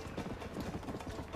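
A war horse's hooves clip-clop steadily in the Red Dead Redemption video game, a fast rhythmic gallop of muffled thuds over a dense, low background rumble.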